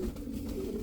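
A breeding pigeon gives a short, low, soft coo, close and steady, lasting under a second.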